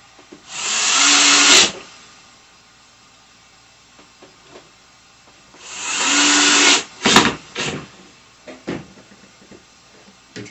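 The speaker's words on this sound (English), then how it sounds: "And you're going to put your two screws in." Two screws are driven in with a whirring power driver while a Mainstays three-shelf bookcase is assembled. There are two sustained buzzing bursts several seconds apart, followed by a few light knocks and clatters of handling.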